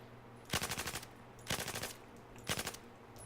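Light machine gun firing in Battlefield 4, three short evenly spaced bursts of about five or six rounds each, crisp and close with quiet gaps between.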